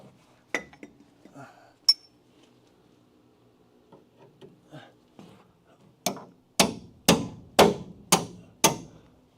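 Hammer blows strike through a spot weld on a car body, a Crew Cab Charger project: a few scattered taps early, then six loud, evenly spaced metallic whacks close by near the end.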